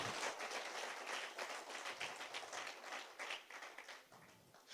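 A church congregation applauding together in a sustained burst of dense clapping that fluctuates and gradually eases off, with no speech over it.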